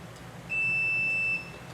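A single steady electronic beep lasting just under a second from a continuity tester checking the wires of a repaired extension cord, over quiet background hum.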